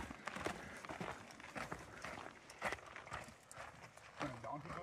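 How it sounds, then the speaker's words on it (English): Donkey hooves clip-clopping along a rocky canyon trail as the animal walks past, steady irregular hoofbeats close by, mixed with voices talking throughout. "When a donkey goes by, I gotta step out there."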